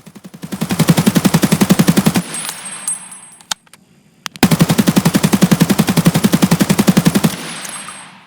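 Two long, loud bursts of rapid automatic gunfire from a close-range weapon in Escape From Tarkov, with a metallic clink and a brief pause between the bursts and a fading tail after each.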